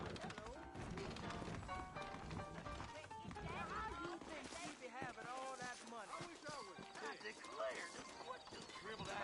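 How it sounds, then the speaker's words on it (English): Horses clip-clopping and neighing in the Red Dead Redemption video game, hooves and whinnies mixed with music and voices in a busy, layered scene. "I got the horses saddled up and ready out front."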